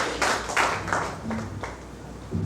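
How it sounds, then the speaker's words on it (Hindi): A crowd at a Raipur public gathering claps to welcome a guest: a short, thin patter of scattered hand claps, close and moderately loud, fading out after a couple of seconds. "एक बार ताली बजा करके"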